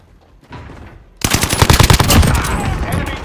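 Call of Duty: Modern Warfare gunfire, with a faint shot or two, then a loud, rapid burst of automatic fire that continues to the end.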